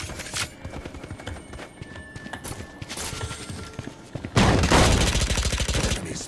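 Gunfire in the shooter game Valorant: scattered shots and game noise at first, then a loud, rapid burst of automatic fire that dominates the last two seconds.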